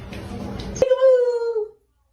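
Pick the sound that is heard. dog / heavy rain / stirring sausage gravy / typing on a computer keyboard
dog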